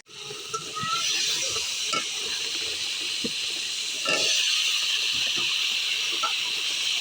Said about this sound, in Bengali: আর এই তো মাছ ভাজা করতেছি।